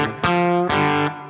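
A semi-hollow electric guitar plays two sustained chords through a slightly fuzzy, distorted tone. Each chord is strummed crisply and rings out loud and close, with no talking.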